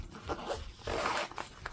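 A zipper on the side pocket of a pen storage bag is worked open in a few quick rasping pulls, close and fairly quiet, with no talking.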